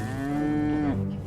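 A single long cow moo from Return of the Obra Dinn, sustained and harmonic for about a second before dropping off, loud and close with no talk over it.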